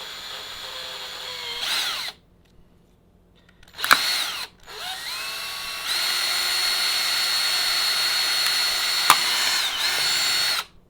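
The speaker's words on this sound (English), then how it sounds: "We're going to slowly drill in." A power drill whines in several bursts, stopping and restarting, then runs steadily for several seconds at close range as it bores into a jar lid, with no talking.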